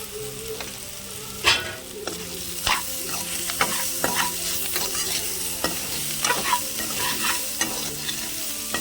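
Tomato paste curry sizzling and frying in hot oil in a village-style kitchen, stirred with a utensil that scrapes and knocks against the pan in irregular bursts over a steady close crackle.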